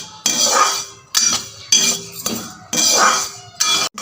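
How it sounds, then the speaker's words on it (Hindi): Sesame seeds are dry-roasted without fat in a kadhai, stirred with a spatula in about six firm scraping strokes separated by short pauses, close and fairly loud. "तो सबसे पहले तिल को भूंज लेते हैं"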